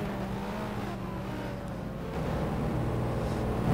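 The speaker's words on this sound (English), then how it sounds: "Jason will wait for the optimum time to accelerate." Race car engines in a Corvette C6R sim racing game hum steadily at a standing start, then swell louder and rev up as the cars pull away together, with no voices.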